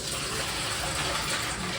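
Water runs steadily while rice is rinsed, a continuous close gushing wash with no pauses.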